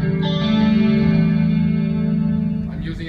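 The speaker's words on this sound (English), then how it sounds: "a little bit of compressor. Chorus, delay, reverb." A clean electric guitar tone through a Fender Twin with compressor, chorus, delay and reverb rings out as sustained, shimmering chords, loud and close, with a wavering chorus texture that decays toward the end.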